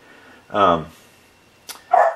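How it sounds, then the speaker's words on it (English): A dog barks a few times nearby, with short loud bursts separated by quiet gaps, in a room where a remote-control hydraulic backhoe is being unboxed. "because Winston, what are you barking at"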